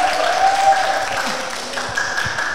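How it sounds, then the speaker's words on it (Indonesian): A school audience applauds a student preacher at a Ramadan sermon contest, a continuous crowd of hands clapping in a room with a faint sustained tone running beneath. "Tepuk tangan sekali lagi dong untuk Mas Aditya"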